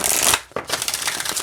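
An oracle card deck is shuffled up close, giving two quick rustling riffles of cards split by a brief pause, loud and crisp with no talking.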